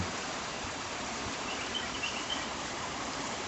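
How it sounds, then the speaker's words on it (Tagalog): Irrigation water from an underground river rushes across a date farm in Al Ain, a dense, steady gushing flow heard up close without a break. "Maririnig mo lang dito, yan lagaslas ng tubig"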